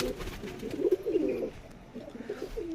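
Rajshahi Giribaz tumbler pigeons coo close by, a soft, low, throaty burble that rises and falls in short rolling phrases, with a quiet pause partway through.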